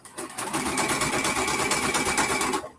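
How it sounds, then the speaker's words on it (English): A Juki DX 2000 QVP quilting sewing machine runs in one continuous fast burst of rapid, even stitching, close and steady for about two seconds before stopping. "am sewing on my Juki DX 2000 QVP"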